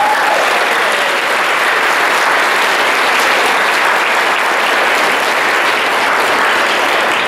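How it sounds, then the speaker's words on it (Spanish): Loud, sustained applause fills a church hall as the congregation claps together, a continuous dense roar of many hands with no pauses. "Dale un aplauso para ellos."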